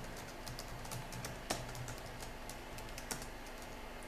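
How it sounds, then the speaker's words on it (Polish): A password is typed on a computer keyboard during Arch Linux 2016 setup: a quick, close run of light clicking keystrokes, with a couple of louder key presses standing out. "Wpisujemy hasło rota."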